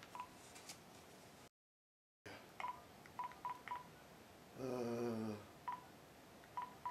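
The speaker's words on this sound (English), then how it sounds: "let's try calling Angie" A telephone number being dialed by hand, with a series of short, distinct keypad tones in an uneven rhythm, one longer multi-tone signal partway through and a brief dead gap early on, all quiet and close.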